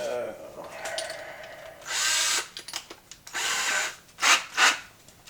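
A power drill enlarging a hole in PVC pipe runs in short bursts at slow speed, whining up and stopping several times, with brief pauses and some nearby talk between bursts.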